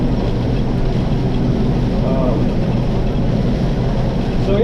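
A Massey 81 tractor runs a grain auger on a soybean farm, giving a loud, steady, close engine drone with a continuous low rumble and no breaks.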